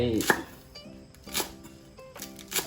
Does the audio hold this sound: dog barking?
no